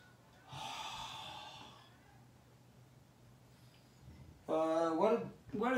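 A person breathes audibly while doing neck rotation exercises: a long, airy exhale, a short pause, then a brief voiced, strained breath sound near the end.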